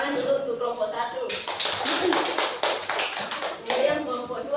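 A classroom group claps for the first student group, a burst of quick overlapping hand claps from several people, fairly close, mixed with voices talking.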